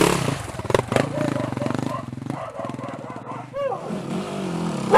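An enduro motorcycle rides through villages at the first Red Bull Romaniacs, its engine revving close with a rough, pulsing note that rises and falls, with some clatter and a brief higher whine near the end.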